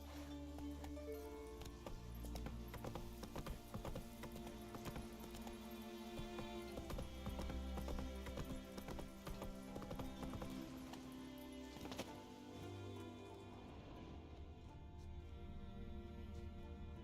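Roach, a horse in The Witcher video game, trots with steady, rhythmic hoof clip-clops under a dense game soundtrack, with an occasional faint whinny.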